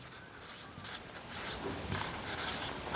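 Chalk or pen scratches out an answer during a maths lesson on circles, in short uneven strokes and taps heard close up with no talking.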